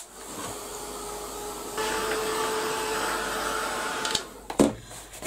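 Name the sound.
heat gun blowing on a craft piece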